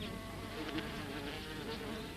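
Aggressive wasps buzz steadily around paper nests built beneath weaver bird nests, a dense continuous hum at moderate level with no voices.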